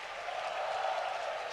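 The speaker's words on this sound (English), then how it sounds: "Clap your hands, all you people." A worship congregation claps their hands together, a brief, steady patter of many hands heard faintly and at a distance.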